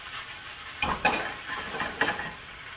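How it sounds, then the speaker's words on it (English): Chicken for chicken marsala sizzles in a hot pan, a steady hiss close by broken by a few sharp scrapes and clinks as the pieces are stirred. "But you can really hear it sizzling"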